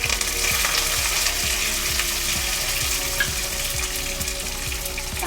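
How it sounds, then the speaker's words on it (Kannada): Garlic and dried red chilies fry in hot oil for a tempering, a steady close sizzle with bursts of crackling pops and faint stirring scrapes running the whole time. "ಬೆಳ್ಳುಳ್ಳಿ, ಒಣಮೆಣಸು ಕೆಂಪಾಗ ತನಕ ಫ್ರೈ ಮಾಡಿಕೊಂಡು ಒಗ್ಗರಣೆ ಮಾಡಿದ್ರೆ"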